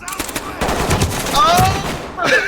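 Rapid gunfire in the tactical police shooter Ready or Not, loud overlapping shots in quick bursts with people talking excitedly over them.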